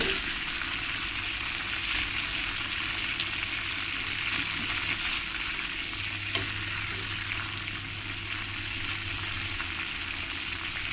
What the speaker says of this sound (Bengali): তুলে নিয়ে পরে চিকেনগুলো আমি একই রকমভাবে ফ্রাই করে নেবো